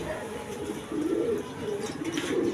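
Several pigeons coo in low, rolling bursts at close range, the calls rising and falling in overlapping waves throughout.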